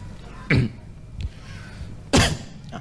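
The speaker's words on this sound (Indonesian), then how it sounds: "Nah, itu batuk." Two sharp, loud coughs ring out about a second and a half apart, with a fainter throaty sound between them against quiet background noise.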